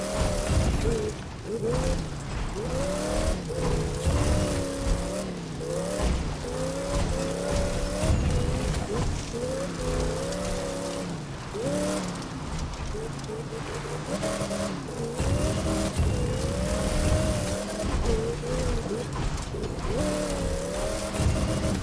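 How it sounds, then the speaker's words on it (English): A car driving over rough ground in the racing game The Crew 2, its engine droning steadily and loudly throughout with shifting pitch, plus scattered thumps and bumps, and no talking. "Car randomly bumps around."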